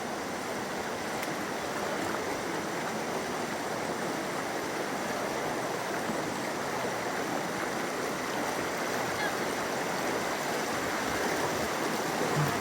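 A strong river current rushes where two rivers join, giving a steady, broad watery roar that holds at an even level throughout with no voices.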